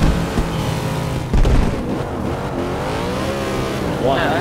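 A car engine revving hard in the racing video game Forza Horizon 2, loud rising and falling engine pitch with a brief tire squeal, while players talk over it.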